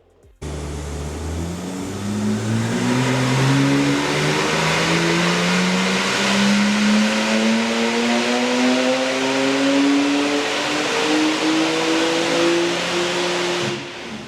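Engine of a Porsche 911 991 Turbo S with a Stage 1+ tune, revving loud and close in one long sustained pull whose pitch climbs steadily for about thirteen seconds, with no talk.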